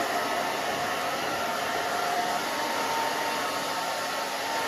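Hair dryer blowing steadily on a short spiky pixie haircut, a constant close, loud whooshing roar with no talk over it.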